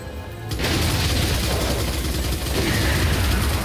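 Gunfire in the survival-horror video game Resident Evil 4 erupts as a loud, dense, continuous burst of booming shots and mechanical clatter, filling the moment with no speech.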